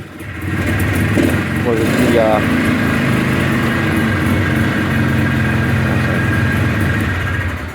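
A Polaris Trailblazer 250cc quad engine idles steadily and loudly up close, a continuous rumbling drone that runs through the whole stretch without pause.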